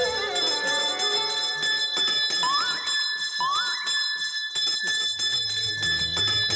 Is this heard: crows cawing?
no